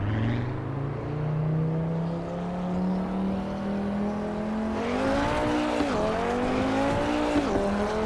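An Audi RS3 Sportback engine in the Assetto Corsa Evo racing game drones steadily, then climbs in pitch through several shifts as it accelerates, loud and close with no talk.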